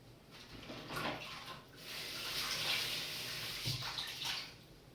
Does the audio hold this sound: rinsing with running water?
yes